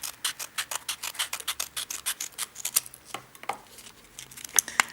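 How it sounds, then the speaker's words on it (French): Scissors snip and slide through the wrapping of a sealed trading card booster package, a fast close run of crisp cutting strokes that slows and spaces out toward the end. "On va couper au ras, hein, pour pas trop abîmer ce qu'il y a à l'intérieur."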